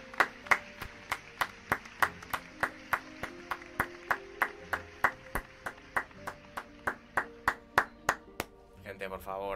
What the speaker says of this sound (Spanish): Gente, por favor, aplausos para este estudio